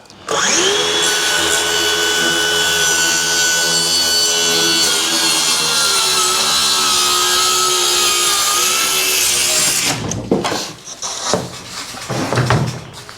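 A cordless power saw cuts through wood in one loud, continuous, whining stroke of about nine seconds, close by, then stops, followed by a few knocks and handling sounds.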